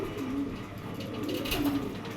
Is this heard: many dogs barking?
no